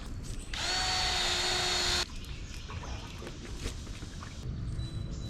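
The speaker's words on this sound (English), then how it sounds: "I think I gotta drill some holes." Power drill boring into a PVC board, one loud sustained whine lasting about a second and a half, then quieter handling noise and rustling nearby.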